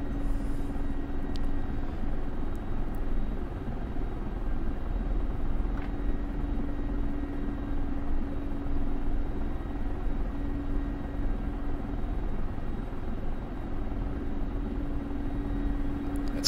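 A Mi-24 Hind attack helicopter taxis in the DCS flight simulator, its steady engine and rotor drone humming at an even level the whole time, with no voices.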